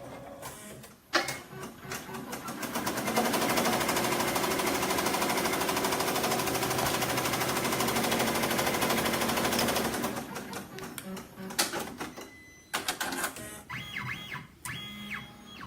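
An embroidery machine stitches a placement circle for a heat transfer vinyl applique with a rapid, steady mechanical chatter lasting several seconds, close and loud, then stopping into softer clicks and handling noise.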